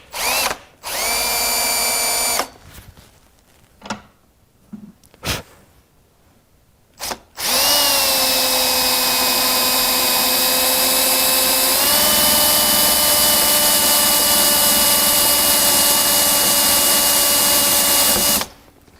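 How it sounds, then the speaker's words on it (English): A reverse drill bit bores into a screw on a carburetor, a power drill whining in short bursts, then running steadily at high pitch, its tone shifting as the bit breaks through and hits the screw head. "when you drill into it, you heard me go through it and you heard me hit the head of the screw."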